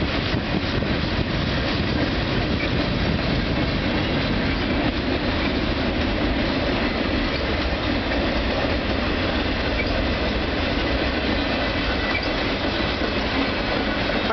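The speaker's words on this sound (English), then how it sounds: "And there's empty boxcars" A CN freight train of empty boxcars rolls past up close, a loud, continuous rumble with rhythmic clickety-clack from the wheels and faint squeals, filling the whole stretch without talk.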